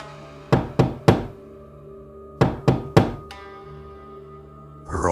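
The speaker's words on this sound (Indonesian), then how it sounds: "suara ketukan itu kembali terdengar, kali ini lebih keras, lebih agresif" Loud, aggressive knocking on a door as a horror-story effect: two bursts of three heavy, evenly spaced knocks separated by a pause, each ringing out briefly in a quiet room.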